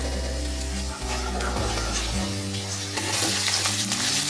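Peeled garlic and small shallots fry in a pan for a curry-leaf kuzhambu, producing a continuous close sizzle that grows a little louder toward the end, with a low background hum.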